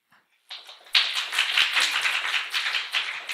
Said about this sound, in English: I will accept that applause.